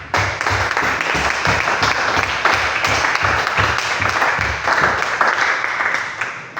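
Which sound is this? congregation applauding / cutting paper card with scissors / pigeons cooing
congregation applauding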